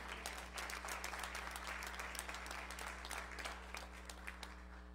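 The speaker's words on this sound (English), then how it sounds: "can you please give our God a hand clap of praise?" A church congregation at a Baptist Sunday service claps in praise, a dense, even spatter of many hands that carries on throughout over a low steady hum.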